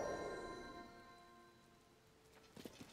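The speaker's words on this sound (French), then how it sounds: "Mais putain, mais il pleut partout sur cette map." Rain falling across the open map of Zelda: Tears of the Kingdom, a soft steady patter under a fading chiming tone, with a few louder drops near the end.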